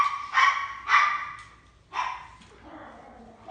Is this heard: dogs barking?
yes